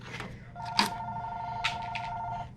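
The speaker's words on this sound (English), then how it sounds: "We'll ignore the phone." A telephone rings indoors, its steady two-tone electronic ring held for about two seconds at moderate level, with faint background sounds before it starts.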